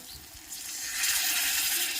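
Water poured into a pan of frying potatoes and spices for a Bengali egg curry, a rushing hiss and bubbling sizzle that swells louder halfway through and continues steadily.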